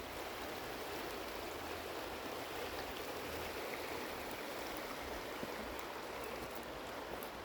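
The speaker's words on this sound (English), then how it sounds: "this is the river" A river in the countryside of Biały Dunajec, Poland, near Zakopane, flows steadily past a school, a continuous close rushing of water with no voices.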